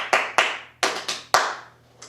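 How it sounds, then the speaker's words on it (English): Sharp hand claps tapping out a short rhythm in a music practice exercise, five distinct claps in uneven groups followed by a softer final one, close and clear with a faint steady hum underneath. "twice, and you clap back."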